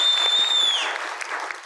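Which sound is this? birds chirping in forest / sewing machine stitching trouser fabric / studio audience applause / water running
studio audience applause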